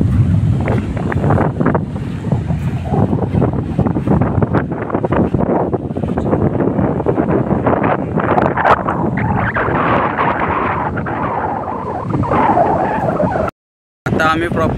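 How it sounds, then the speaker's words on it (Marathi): Wind blowing at Palshet beach as the sea tide rises, heavy buffeting wind noise on the microphone over a steady roar of surf, loud and continuous, with a brief dropout near the end. "हवा पण सुटलेली आहे. समुद्राला भरती येत आहे."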